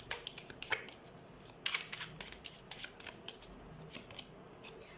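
Tarot cards shuffled and drawn by hand, a run of soft, quick riffling flicks and paper slaps at close range, fairly quiet and without talk.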